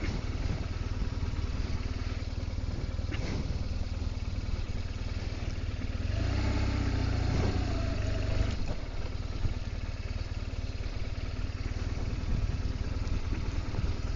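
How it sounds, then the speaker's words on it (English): Heavy touring motorcycle idling with a steady, loud engine rumble throughout while the rider slowly backs it up on the Scottish islands, with a few clunks and clatters partway through. "you have to be so careful backing this bike up"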